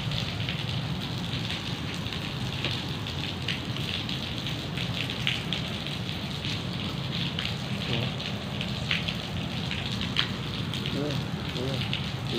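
Heavy rain pours steadily, a dense hiss with scattered drop impacts, and a faint voice murmurs underneath at times.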